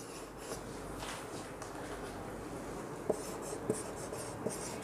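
Chalk or marker scratching steadily across a classroom board during an English grammar lesson, a continuous soft scraping stroke with a few sharper taps near the end, fairly quiet and alone.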